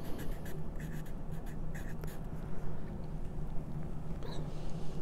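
A pencil scratches a name across paper at the bottom of a page, with short irregular strokes and pauses, close and fairly quiet.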